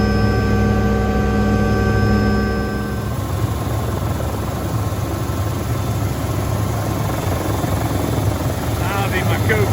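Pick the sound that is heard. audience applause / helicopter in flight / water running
helicopter in flight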